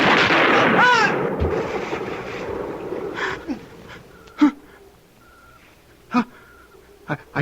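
A radio drama gunshot effect is heard as several sharp, booming reports spaced a second or two apart. They follow a loud, strained vocal outburst and rise over a noisy, echoing background.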